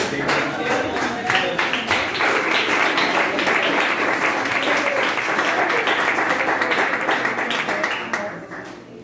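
Congregation clapping in a church service, a dense, loud, steady burst of many hands that holds for about eight seconds before tapering off at the end.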